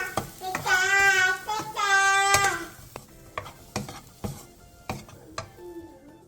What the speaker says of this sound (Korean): 마지막으로 대파 초록 부분 조금을 넣고 가볍게 뒤적여 마무리해주세요